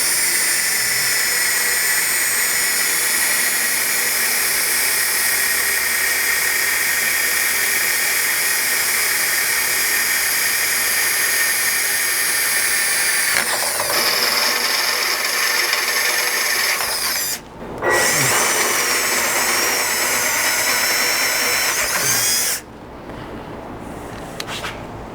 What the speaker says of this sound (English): I'll use a couple smaller drill bits and work my way up to that 5/16 hole